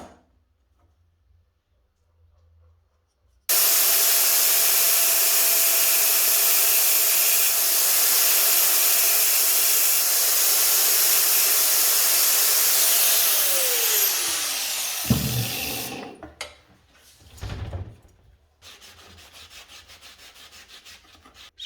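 A power tool grinds a groove into a wooden cheese cutting board with a loud, continuous high whine and rasp that starts abruptly, runs about twelve seconds, then winds down with a few clunks.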